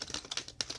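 A deck of oracle cards is being shuffled, producing rapid, crisp riffling clicks in quick uneven bursts, close and moderately quiet, with no talking.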